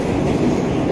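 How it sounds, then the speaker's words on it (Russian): A Moscow metro train runs loud and close along the open-air surface section near Kuntsevskaya and Molodyozhnaya, giving a continuous rumbling roar of wheels on rails with no voices. "Поезд следует до станции с ограниченным маршрутом до Строгино."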